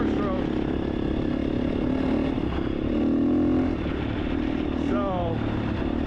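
A 2024 350 XCF dirt bike engine drones steadily at mid revs while riding, rising briefly in pitch, with wind noise over it and a rider's voice talking at times.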